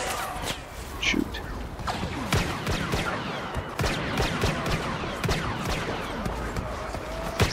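Blaster fire from Star Wars Battlefront Heroes vs Villains, with Han Solo in play, comes as a dense run of sharp shots over loud game noise and layered effects, continuous and close.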